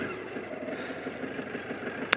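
BMW K100 RT motorcycle from 1985 with about 77,000 miles, its engine idling steadily and close by after starting, a low even hum with one brief sharp click near the end.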